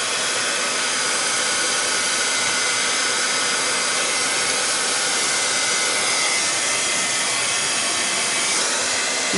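A dryer drying a craft project blows a loud, steady, airy whoosh at close range for nearly ten seconds, alone with no talking.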